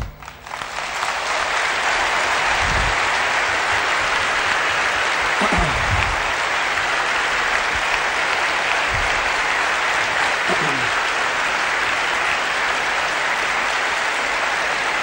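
Sustained loud applause from an audience at a speech on family, steady dense clapping that fills the whole stretch with a few low thumps mixed in.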